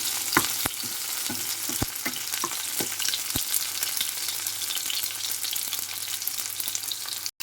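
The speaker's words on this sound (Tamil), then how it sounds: "கடுகு கொஞ்சம் வடிக்கணும்" Mustard seeds and fennel seeds spluttering in hot oil for a spicy prawn thokku, with a steady loud crackle and sharp scattered pops as seeds burst, continuous throughout with no talking.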